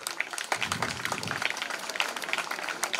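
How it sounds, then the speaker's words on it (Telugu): Students applauding at a school mock election event at ZPHS Raipole, Ibrahimpatnam, a few seconds of brisk, moderately loud group clapping in a hall. "క్లాప్స్ కొట్టండి ఒకసారి."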